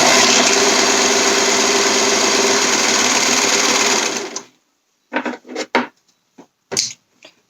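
Close and loud, a sewing machine stitches a romper seam in a steady whirring run lasting about four seconds, then stops; several short handling clatters follow in the quiet.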